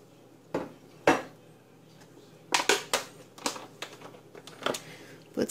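Pears dumped into a pan, heard as a series of soft clattering thuds and knocks against the metal, several scattered bursts spread over a few seconds, close and fairly quiet.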